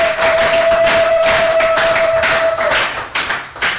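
A congregation claps at a Catholic mass for peace in the DR Congo, lively rhythmic clapping with a steady tone ringing through part of it, then thinning out toward the end.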